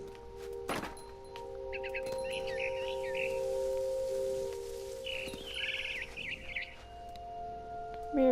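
Frightened bird in the game What Remains of Edith Finch, with short high chirps and tweets in a few bursts over a steady hum of ambient game tones and a few soft thuds.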